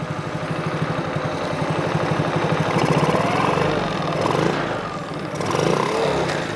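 A granddaughter's quad bike idles while warming up, its small engine putting out a steady, close, pulsing putter that shifts slightly in pitch, with no talk over it.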